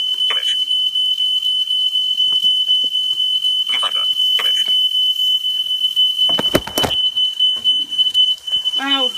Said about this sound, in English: Oh, the alarm's gone off.